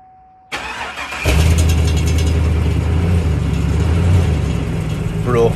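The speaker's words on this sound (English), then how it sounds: "My H2, cold start." A Hummer H2 truck with a broken exhaust tip cold-starts: a clicking starter crank, then the engine catches and settles into a loud, steady idle rumble close by.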